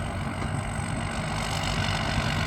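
A tractor engine runs steadily at a moderate distance, a continuous low, even drone with no break or change in pitch.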